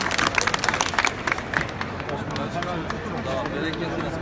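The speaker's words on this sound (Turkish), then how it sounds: "Bence Diyarbakır'ı bir alkışlayalım vallahi." A crowd at a tourism fair applauds with a burst of fast, loud clapping over the first two seconds that then fades into a dense crowd murmur with talk.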